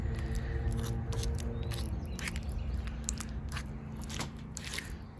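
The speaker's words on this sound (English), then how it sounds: "add the garlic powder right to the softened butter and mix it up" Garlic powder is mixed into softened butter with scraping, sticky clicks and smacks in an irregular rhythm, close and soft over a low background hum.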